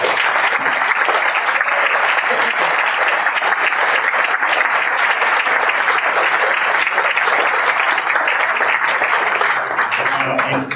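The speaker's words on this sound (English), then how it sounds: "So I'd like everyone now, if you could give a round of applause." An audience at a school board candidate forum gives a sustained, dense round of applause, loud and even for about ten seconds before starting to thin at the very end.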